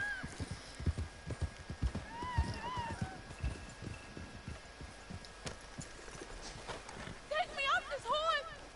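A horse in the Red Dead Redemption 2 video game clip-clops in a steady, uneven hoof rhythm, then neighs in short whinnies near the end, with someone talking over it.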